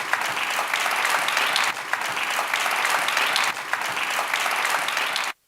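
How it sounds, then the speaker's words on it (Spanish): A conference audience bursts into sustained applause, dense and even clapping from many hands filling the room, steady for about five seconds before cutting off abruptly. "Un aplauso."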